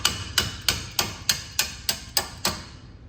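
Eight evenly spaced, ringing metallic hammer strikes sound close up while a coilover is installed on a truck, each blow decaying quickly before the next.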